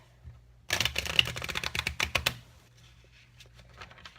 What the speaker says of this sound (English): you can actually shuffle it again if you want